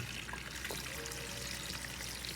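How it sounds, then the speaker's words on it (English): Running water pours steadily into the drum of an LG manual top-loader washing machine, a continuous close splashing rush with no pauses. "So I'm going to turn on the water and then you see how it goes."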